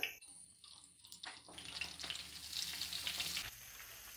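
Half a cup of butter drops into lightly warmed ghee for khasta kachori and begins a soft, faint bubbling sizzle that swells and holds steady before cutting off.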